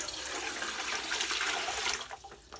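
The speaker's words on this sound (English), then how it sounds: "I'm going to add my water" Water pours into a pressure canner being prepared for raw-packed tomatoes, a close, steady splashing gush that tapers off toward the end.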